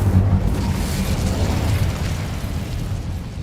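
A fiery Incendio spell burst in the game Hogwarts Legacy, a loud, rumbling whoosh of flame that flares at once and then keeps roaring steadily for several seconds, close and alone.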